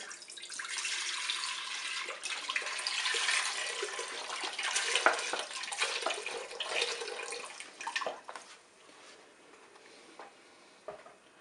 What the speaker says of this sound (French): On verse tout simplement le lait dans la cuve.